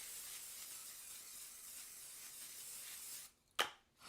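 A spray bottle hisses a steady mist over plastic wrap laid across rolls, a soft continuous spray lasting a few seconds, then a short sharp burst after a brief pause.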